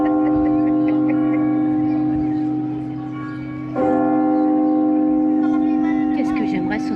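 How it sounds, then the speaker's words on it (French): A church bell rings with loud, resonant tolls, the humming tone decaying slowly before a fresh strike swells it again, with faint voices nearby. "Qu'est-ce que j'aimerais sonner la cloche."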